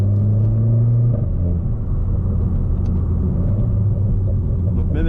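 Renault Clio 4 RS engine with a straight-pipe exhaust, a loud steady low rumble from inside the car that drops in pitch after the first second as it settles to cruising, with a faint tonal rise near the end.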